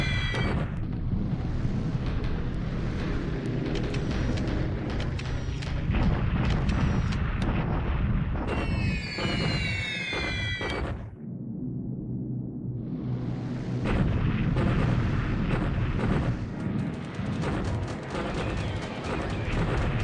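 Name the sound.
strafing and bombing in video game War in the Pacific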